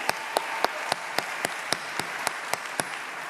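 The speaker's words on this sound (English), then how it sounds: "yeah, we can applaud." Audience clapping at a 2027 global vehicle product reveal event, a slow, evenly spaced series of about eleven sharp claps at moderate volume, echoing slightly in a large space.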